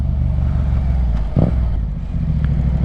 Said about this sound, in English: That's just one of the good things about it, is that exhaust right there.